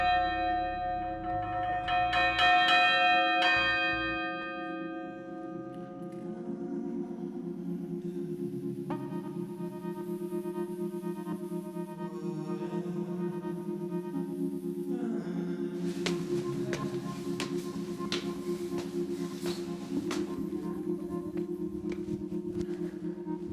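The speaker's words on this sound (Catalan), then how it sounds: "és la Caterina de 1305, que és la campana més antiga de la catedral i de la ciutat de València" The Caterina, a 1305 bronze bell in the tower of Valencia Cathedral, rings alone with several struck peals whose long metallic hum decays and overlaps, close and resonant without voices.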